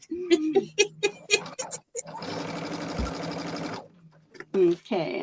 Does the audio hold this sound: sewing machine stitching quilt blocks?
yes